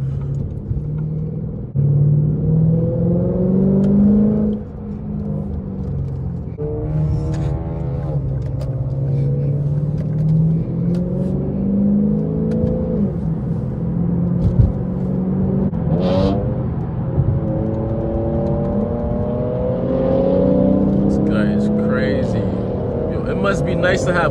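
A 500hp+ all-wheel-drive Infiniti Q60 cruises gently through downtown at night, a low, steady engine rumble with mild rises in revs running under a person talking throughout.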